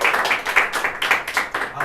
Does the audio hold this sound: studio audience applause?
yes